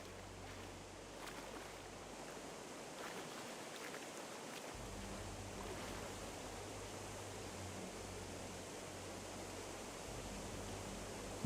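A waterfall in the video game Gothic 1 Remake gives a steady, soft rushing wash of falling water, unbroken and fairly faint, with no voices over it.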